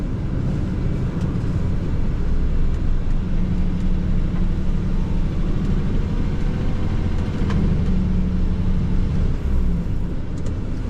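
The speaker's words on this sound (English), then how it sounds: "So in situations like this, you can have that exhaust brake on." Mercedes Unimog driving on a farm with its exhaust brake engaged, giving a steady, loud low engine rumble and drone that holds throughout without speech.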